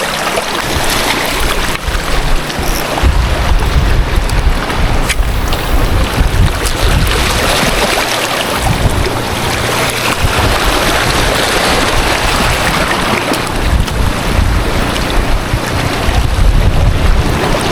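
Strong sea waves wash steadily around a fishing boat out on open water, with broadband surf and wind rumble filling the whole stretch at a constant loud level.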